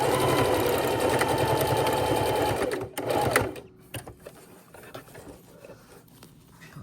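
A sewing machine runs steadily, stitching a simple crisscross on an adult dignity bib, with a dense, even whir that stops about halfway through and gives way to quiet handling noise.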